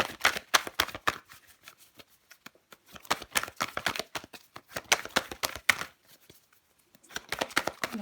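Tarot cards are handled and laid over one another, giving quick, crisp papery slaps and shuffling flicks in bursts with short pauses between them, close and fairly quiet.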